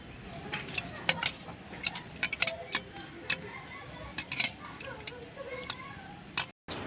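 Gulab jamun sweets go one by one into warm sugar syrup in a pot, giving a steady run of light spoon-and-vessel clinks and taps, close and fairly soft, with no talking.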